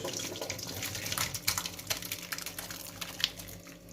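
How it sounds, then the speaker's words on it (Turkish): Boiled homemade noodles drain in a strainer as water rushes and splashes steadily through the mesh into a sink, a continuous close wash with small clatters. "şimdi de kesmemizi eşitlerimizi süzüyoruz"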